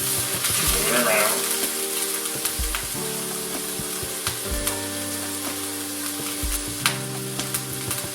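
Beef browns in a frying pan with a steady crackling sizzle, close and continuous, interrupted by several soft low thumps and scrapes as the meat is moved around.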